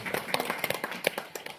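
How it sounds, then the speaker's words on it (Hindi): An audience at a company event claps together in a quick, dense burst of moderately faint hand claps, steady throughout with no voices standing out. "उनके लिए एक बार जोरदार ताली।"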